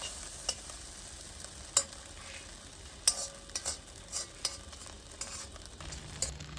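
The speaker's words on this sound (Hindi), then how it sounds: "ये ऐसे वक्फे वक्फे से इसको, चम्मच को हिलाते रहें।" A frying mixture is stirred with a spoon now and then, faint clinks and taps over a quiet low sizzle, heard alone without talk.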